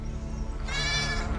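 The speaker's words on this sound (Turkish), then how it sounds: "Şanslısın, yeni doğmuş bir koyunum var." A newborn lamb bleats once, a single wavering cry close by that rises midway and holds for about half a second over a low background hum.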